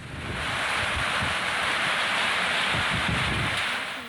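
A loud, continuous roar of floodwater rushing down a local village river after heavy rain in Saurashtra, Gujarat, dense and unbroken, like a swollen river in full flow.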